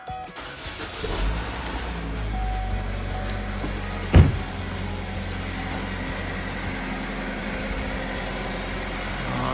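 A Chevrolet Equinox with a new exhaust manifold and catalytic converter starts, then idles steadily at close range, with a brief sharp knock partway through before the engine settles into an even hum.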